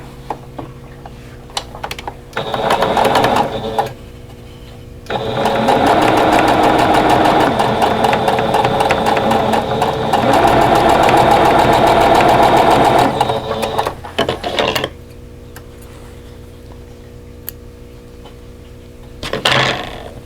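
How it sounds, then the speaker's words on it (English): A sewing machine stitches quilt block pieces together for a quatrefoil block, running in two long steady bursts of close, loud motor hum and needle chatter with short pauses and quieter handling between. "let's just go ahead and sew the next 2 pieces together"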